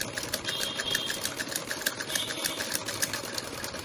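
A cleaned and oiled household sewing machine, one that had been breaking its thread, runs steadily at close range, its needle ticking in a fast, even rhythm over a low motor hum, with no voices.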